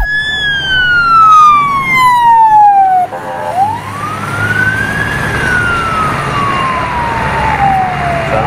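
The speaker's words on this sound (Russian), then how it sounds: "Военная скорая помощь!" A military ambulance siren sounds loud and close, one long falling wail, a brief break, then a second rising and falling sweep, with no voices.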